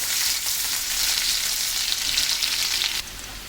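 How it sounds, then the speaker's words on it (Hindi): Onion frying in a pan on the stove for a Chingri Malai curry, a steady close sizzle that holds evenly throughout, then softens slightly near the end; no voices. "और अनियन को हम ब्राउन होने का वेट करेंगे."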